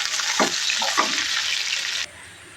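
Chopped spice paste frying and being stirred in a hot pan for a banana flower dish, a steady loud sizzle with a couple of scraping stirs, cutting off sharply near the end.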